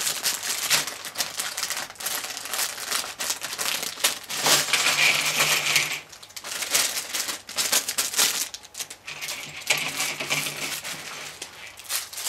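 A LEGO Christmas polybag set, Decorating the Tree 40058, is handled as the plastic bag is opened: constant close crinkling and rustling with rapid little clicks and rattles of loose pieces, busy and unbroken.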